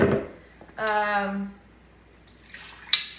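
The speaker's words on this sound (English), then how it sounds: "I'm actually gonna put a little bit of water in here" Water poured into a cooking pan with leftover food residue, a brief splashing pour with light drips, alone, followed by a soft clatter.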